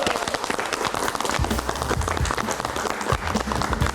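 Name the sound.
audience applause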